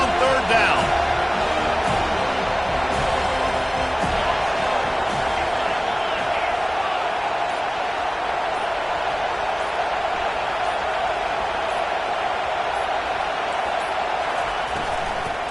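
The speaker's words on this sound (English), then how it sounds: "Here comes this home crowd as the defense tries to get off the field on 3rd down." A home crowd roars in an American football video game as the defense tries to get off the field on third down. The crowd noise is loud and steady for the whole stretch, and a voice seems to talk over it.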